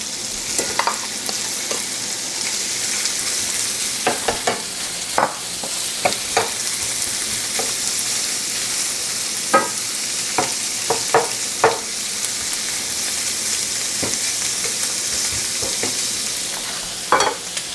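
Shrimp stir-fry in a hot pan with a constant loud sizzle, punctuated by frequent clicks and scrapes of a spatula tossing them throughout.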